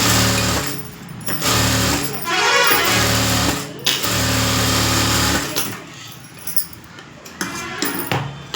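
A tailor's sewing machine stitches lining fabric and saree-border strips in several loud, close bursts of rapid whirring, separated by short pauses and handling noises.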